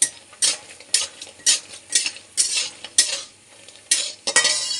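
Half-cooked bottle gourd greens fried and stirred in a pan, a steady sizzle broken by repeated sharp scrapes of a utensil against the metal, close and clear with no talk.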